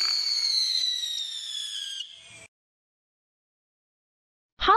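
A firework launches with a rising, whistling screech that thins out and stops abruptly, followed by silence and then a sudden sharp burst at the end.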